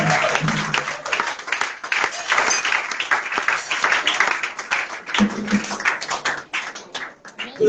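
A church congregation applauds during a worship service, a long spell of dense, uneven clapping from many hands that thins and swells in waves, with some voices mixed in.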